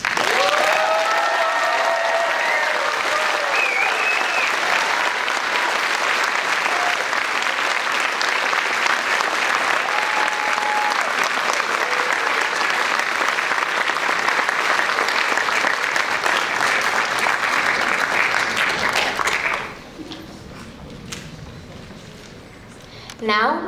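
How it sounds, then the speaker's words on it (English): An audience at a high school National Honor Society induction ceremony gives long, loud, steady applause with scattered cheers and voices, then it cuts off abruptly near the end, leaving quiet room tone and a brief final sound. "You can now applaud."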